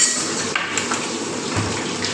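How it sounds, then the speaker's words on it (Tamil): Goat meat with cumin, ginger and garlic being stirred in a cooking pot, a continuous loud sizzling hiss with occasional faint scrapes and clinks of the spoon, and nobody talking. "வறுவலாக கிண்டிக்கிட்டே இருக்கணும்."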